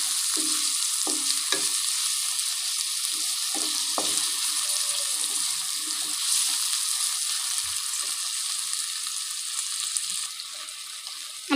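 Mixed vegetables with tomatoes sizzle and fry in a pan as a spoon stirs them, soft scraping taps over a steady, fairly quiet hiss.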